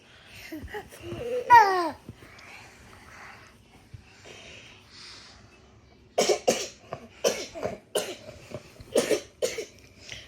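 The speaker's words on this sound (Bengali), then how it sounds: "দেখছো ভাইজানের কাশিটা অনেক বেশি" A young boy coughs in a run of close, repeated, forceful bursts in the second half. Soft babbling and small vocal noises come before the coughing.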